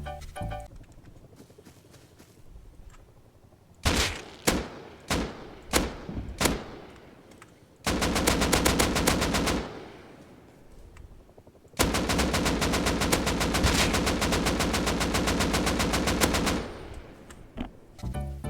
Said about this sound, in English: the AK has the hardest recoil to learn in the game